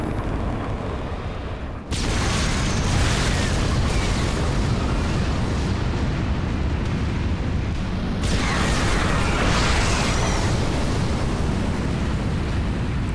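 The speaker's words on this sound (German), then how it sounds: "Zeit für den Nukleareinsatz" In StarCraft 2: Heart of the Swarm, a nuclear strike detonates with a sudden loud blast, then a sustained rumbling roar that swells again into a second surge partway through. No voices are heard.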